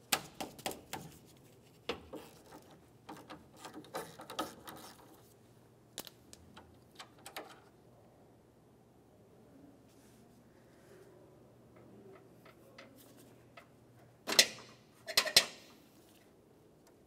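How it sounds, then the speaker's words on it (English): A ratchet wrench with a 10 millimeter socket removing a mounting bolt on a 2006-2011 Honda Civic AC condenser line, quick clicking bursts, a quiet pause, then a few sharp metallic clunks near the end. "once again using a 10 millimeter to remove the mounting bolt"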